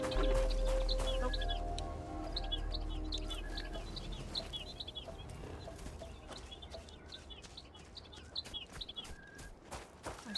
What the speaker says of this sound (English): I can hear the birds, I just don't see anything